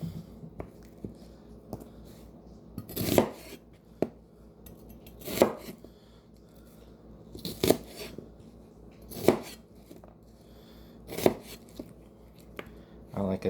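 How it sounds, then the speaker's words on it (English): Onions roughly chopped on a board with a knife: sharp, distinct chops spaced about two seconds apart over a low background hum, close and clear. "I like a thick chop on my onions anyway"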